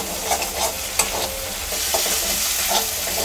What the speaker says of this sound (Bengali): আরও কিছুটা সময় ধরে আমি একটু কষিয়ে নেব সমস্ত মশলাগুলো